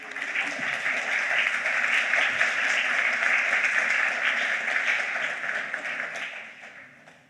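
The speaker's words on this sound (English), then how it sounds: "we're going to give everyone a massive clap" Sustained applause from a conference audience honouring graduating global mental health students, a full, even roar of clapping held for several seconds before gradually fading out.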